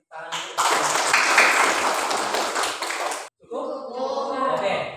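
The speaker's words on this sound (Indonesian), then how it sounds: "Kasih tepuk tangan dulu." A classroom of students claps together in a dense burst of hand clapping lasting about three seconds, followed by a short pause and then voices talking.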